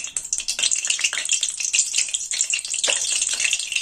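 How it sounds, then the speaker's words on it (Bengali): A spoonful of ghee hits hot oil while Kashmiri chicken is being cooked, giving a bright, crackling sizzle with busy popping bursts that runs continuously, close and fairly loud, with no voices. "তেলটা গরম হয়ে গেছে, তো এর মধ্যে দিয়ে দেবো 1 চামচ ঘি"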